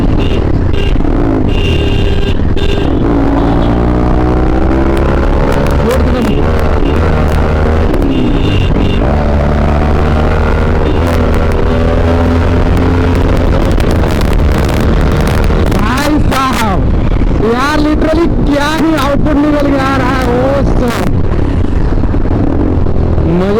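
A Bajaj Pulsar RS200 motorcycle runs in fourth gear at around 110 km/h, its engine droning and rising in pitch under heavy, loud wind buffeting, with a rider's voice talking over it.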